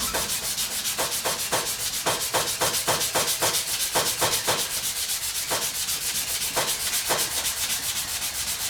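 Paint on the body of a Cutlass is being hand-sanded, a continuous close scratchy rasp with rhythmic back-and-forth strokes and intermittent louder scrapes, steady and alone without talk.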